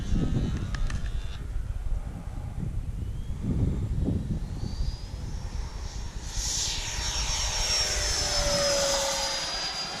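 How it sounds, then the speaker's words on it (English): Freewing F-22 Raptor RC jet taking off, a rising whine of electric ducted fans over rushing wind and ground rumble, the pitch sweeping upward and the sound swelling as the model climbs away. "Okay, taking off to the left."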